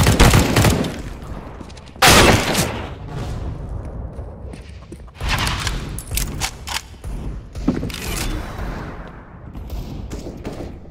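Gunfire in CS:GO: sharp loud shots and short bursts crack out in clusters, with a heavy volley around the two-second mark and more scattered bursts later, close and punchy over a busy background.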